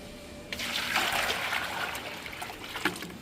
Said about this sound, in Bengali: জল দিচ্ছি, জল দেওয়া হয়নি।